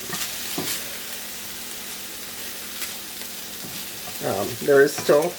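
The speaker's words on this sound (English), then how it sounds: "So we've added our heart meat to a super hot cast iron pan to sear it." Beef heart sears in a very hot cast iron pan with a soft, steady sizzle; a short stretch of voice sounds near the end.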